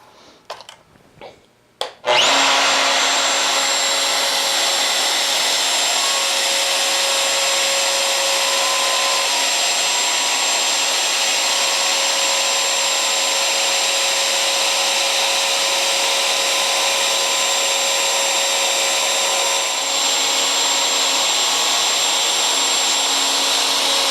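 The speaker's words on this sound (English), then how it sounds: "So I'm just going to resort to a plunge router, and I'm just going to do this by hand." A handheld plunge router wastes out wood for a step stool. After a few brief knocks it spins up and holds a loud, steady high whine close by for about twenty seconds, with only slight dips as it cuts.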